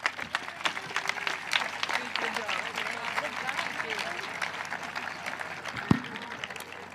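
An audience at a 2021 Hall of Fame induction ceremony applauds and cheers the honored inductees, producing a steady, dense wash of clapping that holds at full strength for the whole stretch, with crowd voices mixed in.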